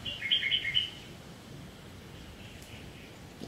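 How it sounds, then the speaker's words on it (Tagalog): A bird gives a quick series of high chirps in the first second, then only a quiet outdoor hiss remains. "Ibon yun? Parang ibon yata yung naririnig natin kanina."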